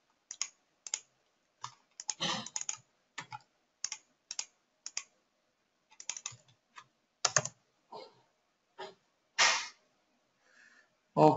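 Search terms typed on a computer keyboard in short bursts of crisp clicks separated by pauses, close and fairly quiet, with one louder thump near the end.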